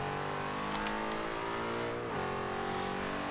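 A 1988 Chevrolet Monte Carlo SS V8 in the Forza Horizon 2 game holds a loud, steady rev under full throttle in second gear on gravel, the engine note dipping briefly before climbing again.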